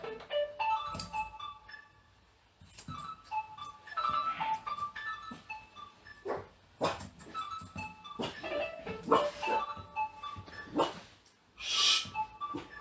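Dogs in a grooming salon bark at a ringing telephone: repeated sharp barks and yips come in bursts throughout, fairly close and loud, with short quiet gaps between.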